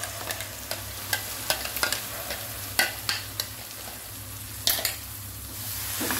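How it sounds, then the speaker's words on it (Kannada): A homemade spice paste fries on a low gas flame, with a constant soft sizzle under repeated scraping and stirring taps of a spoon against the pan in an uneven rhythm. "ನಾನು ಇದನ್ನು ನೋಡಿ ಸಿಮ್ಮಲ್ಲೇ ಫ್ರೈ ಮಾಡ್ತಾ ಇದ್ದೇನೆ"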